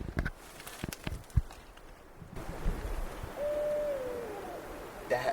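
An owl hoots outdoors in the Northern Cascades, a single soft mid-pitched call partway through, heard amid faint breezy ambience and a few scattered knocks and thumps.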